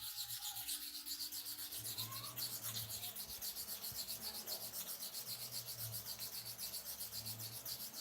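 A clipper blade is rubbed back and forth on a sharpening stone in quick, even strokes, making a soft, close, continuous scraping rasp with no talk.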